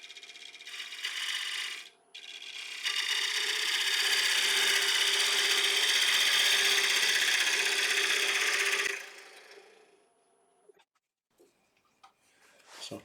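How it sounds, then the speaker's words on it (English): A lathe spins a split oak platter while a ball gouge cuts it, a loud steady hiss of shaving wood lasting several seconds after a short first pass and a brief pause, then quieting to faint scattered taps. "I can remove the rest with my ball gouge"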